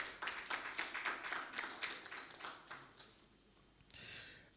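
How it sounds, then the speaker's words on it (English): A conference audience gives a short round of applause, scattered rhythmic clapping from a modest crowd that tapers off after a few seconds, faint and heard alone. "A round of applause for him,"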